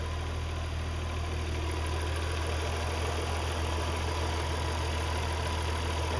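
A car engine idles with the air conditioner running, a steady low hum and drone with a constant airy hiss on top, loud and unchanging with no talk.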